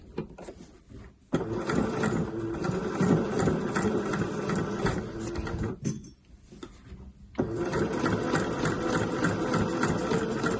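A sewing machine stitches a zip pouch in fast, steady mechanical bursts, pausing briefly twice before running again, close and fairly loud with no voices.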